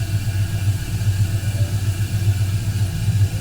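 A 2002 Chevrolet Silverado pickup's engine idles after a major tune-up, a steady, close, low rumble with a slight pulsing rhythm and no voices.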